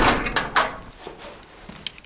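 A door in a bare concrete house somewhere in Mauritania is handled, with a few sharp knocks and bumps early on, then quieter shuffling.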